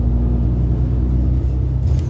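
A large truck rolls past as a steady low engine rumble with constant road noise, heard close and continuous for a couple of seconds.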